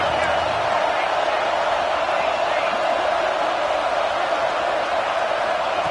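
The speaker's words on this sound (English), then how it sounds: "Listen to the crowd energy here in the early going." A stadium crowd in a college football video game, Oregon at Ohio State, roars in a steady, dense wash of noise that holds without a break from start to finish.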